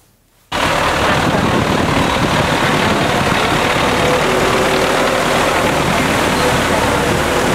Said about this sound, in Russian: На центральном пляже работают 2 таких трактора с закрепленными за ними бригадами.